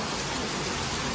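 Heavy night rain falls in a continuous loud, even wash of drops close by, with no voices over it.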